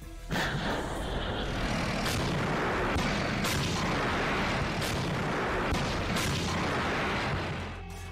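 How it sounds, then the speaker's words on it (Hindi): Repeated heavy booms of artillery cannon fire in the Russia-Ukraine war, several dull thuds spaced a second or so apart over a constant loud rumble, with no talking. "तोप से त्राहिमाम मचाया"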